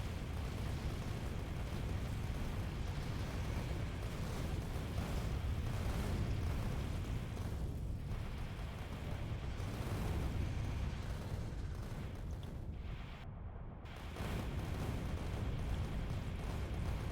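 Rocket explosions pound a biter nest in Factorio, a dense continuous roar of overlapping blasts and rumbling booms that runs loud and steady throughout, with one brief dropout near the end.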